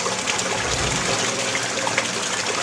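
Water gushes steadily from a double-membrane water refilling station filter during a fast-rinse backwash, a continuous loud splashing rush with no speech.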